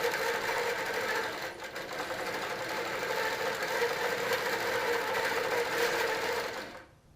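Sewing machine stitching a quilt, its motor whirring in a steady, fairly loud run that holds for several seconds, then stops abruptly at the end.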